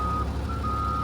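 A forklift sounds a steady run of reversing beeps: a clear repeating tone over a low engine rumble, fairly near, with no talking.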